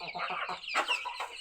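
Backyard hens near laying age cluck close by in a quick run of short, bright calls, followed by a louder squawk and a few more clucks.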